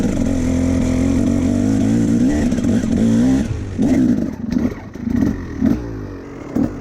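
A dirt bike engine holds a loud, steady idle up close, then blips the throttle in several short, uneven revs with sputtering gaps between them.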